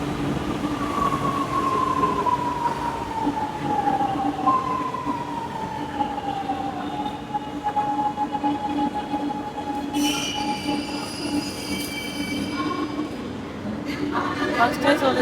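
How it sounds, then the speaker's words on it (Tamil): A train passing close by, its wheels squealing in long sliding tones over a steady rolling rumble, with sharper metallic screeches near the end while people talk over it. "இது ட்ரெயின் வருது"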